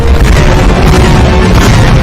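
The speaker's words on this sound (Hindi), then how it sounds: "21 तोपों की सलामी के साथ" Cannons fire a 21-gun salute at India's first Republic Day ceremony on 26 January 1950, a loud, dense, continuous rumble of booming blasts with no pauses between them.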